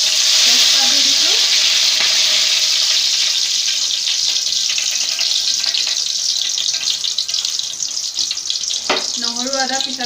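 Bay leaves sizzle in hot oil in an Assamese kitchen, a loud, steady crackling hiss that fills the whole stretch. A few brief clinks and pitched squeaks break in near the end.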